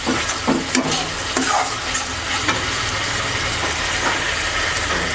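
Tomato paste fries with spices in a pan for chital fish muitha, a loud, close, steady sizzle with stirring scrapes and a few clinks near the start, no one speaking.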